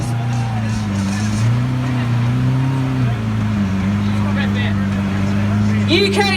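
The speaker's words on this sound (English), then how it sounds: "Hear that engine roar." A Lamborghini Aventador on Regent Street in London at the 2016 Gumball 3000 rally gives a loud, sustained engine drone with shifting pitch, close by, while crowd noise and an announcer's voice sound over it.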